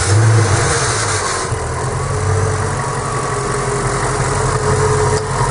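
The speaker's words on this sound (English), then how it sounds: "You see how she revs up? You just slowly rev it up" A Ford 5.4 Triton V8 in an Australian Ford Fairlane G220 idles with a deep, steady rumble and then revs up slowly and smoothly, loud and close, with no voices over it.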